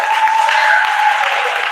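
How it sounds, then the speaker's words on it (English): An audience at an elementary and middle school spring concert gives the students a steady round of applause, a dense, even wash of clapping filling the hall. "Would you please give a round of applause for our students?"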